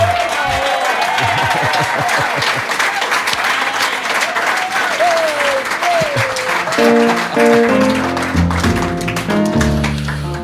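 Concert audience applauding steadily and loudly throughout, dense clapping with a murmur of crowd noise, while piano and a singing voice rise over it toward the end.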